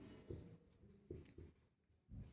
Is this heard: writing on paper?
yes